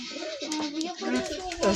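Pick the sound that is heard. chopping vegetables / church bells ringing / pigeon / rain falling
pigeon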